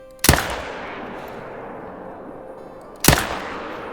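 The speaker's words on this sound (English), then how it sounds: "So let me shoot these guys real quick." Two sharp, loud rifle shots about three seconds apart, fired at red deer while hunting in theHunter: Call of the Wild, each with a booming report and a long rolling echo across open terrain.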